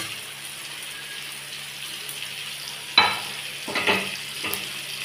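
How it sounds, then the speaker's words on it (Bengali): Diced potatoes tipped into a pan of tomatoes cooked down to a soft mush for aloo chokha, giving a sudden rushing sizzle and stir scrapes, then softer scraping stirs over a steady low frying hiss. "এইবার এর মধ্যে আলুটা আমি দিয়ে দিচ্ছি"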